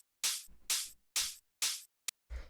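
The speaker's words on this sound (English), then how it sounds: "after that we have the shaker and this hi-hat together" Shaker and hi-hat from an acid techno track playing together on the upbeats: four evenly spaced bright, hissy hits, then a short tick and a final softer hit, dry and close with silence between them.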